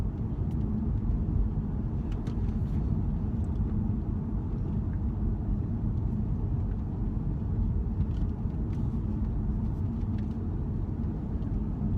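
A Mercedes car cruises at low speed, with a steady, low interior road rumble and engine drone that holds even and unbroken throughout, with no voices.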